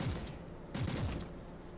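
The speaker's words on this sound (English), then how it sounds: "so long as I just sit back here and spray it with auto gunfire" Automatic gunfire in a Warhammer 40,000 Inquisitor Martyr video game, a faint rattling burst of shots at the start and a louder spray of fire near the middle, heard without speech.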